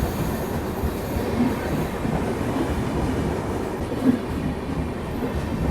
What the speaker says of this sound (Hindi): ये गई भाई गीतांजलि एक्सप्रेस अपनी महाराष्ट्र एक्सप्रेस को ओवरटेक करके मुंबई की ओर